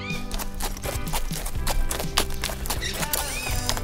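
Several horses and ponies clip-clopping on a hard surface in an uneven trotting rhythm, with shrill neighs and whinnies rising over the hoofbeats, close and fairly loud.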